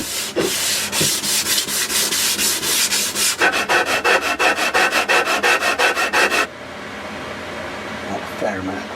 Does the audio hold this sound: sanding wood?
yes